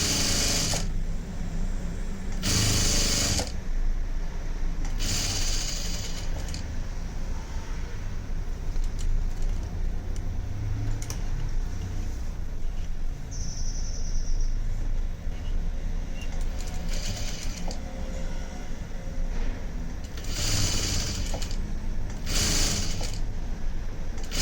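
A sewing machine stitches a design blouse, running in steady whirring bursts with short pauses between seams, close and fairly loud, with no talking.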